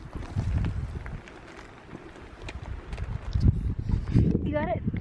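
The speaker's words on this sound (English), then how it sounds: "Oh, I hear the wind." Wind gusting outdoors on a hike, buffeting the microphone in loud low rumbles that swell and fade, with people talking nearby.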